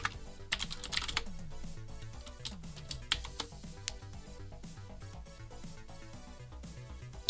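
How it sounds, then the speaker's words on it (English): Computer keyboard keys clack in quick irregular bursts as a command is typed into a console, close and steady with no talking. "Okay, let's type that in the console."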